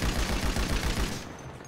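Rapid gunfire rattles in Grand Theft Auto V on PC, a fast burst of loud, closely spaced shots that stops abruptly after about a second.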